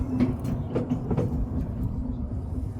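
The Cripple Creek & Victor narrow gauge train running in Colorado, a low rumbling roll with a few faint clanks early on, heard close and steady.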